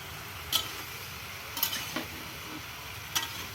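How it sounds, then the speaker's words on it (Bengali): Vegetables for khichuri stir-fried in a pan, a steady low sizzle broken by four sharp spatula scrapes and knocks against the pan, close and with no talking. "এবার খিচুড়ি সবজি কষা চলছে।"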